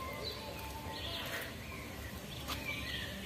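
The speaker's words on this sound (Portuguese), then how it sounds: "E é o som dos pássaros" Birds chirp and sing faintly in the background at the Balneário Caldas resort in Barbalha, with short, scattered calls over a steady outdoor hum.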